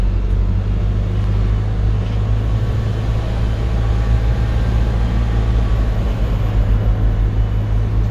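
A steady low engine rumble from inside a car pulling away from a green traffic light, constant and fairly loud, with no clear rise in pitch.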